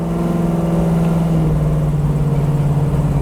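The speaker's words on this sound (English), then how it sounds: "Car accelerates nice. It's got a good sound" A 1971 Dodge Challenger muscle car engine revs with a deep, steady rumble, loud and close, holding a throaty tone throughout.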